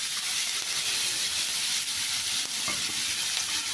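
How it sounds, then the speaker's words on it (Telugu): Chopped onions and green chillies frying in hot oil give a dense, continuous sizzle and hiss, close and fairly loud, with faint stirring scrapes and no talking. "అదే నూనెలో ఉల్లిపాయలు, పచ్చిమిరపకాయ ముక్కలు వేసి వేయించుకోవాలి."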